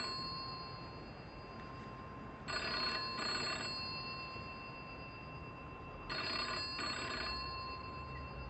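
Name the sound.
telephone ringing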